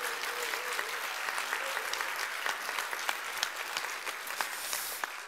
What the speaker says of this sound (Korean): 하나님께 우리 영광의 박수 한번 들려드리겠습니다.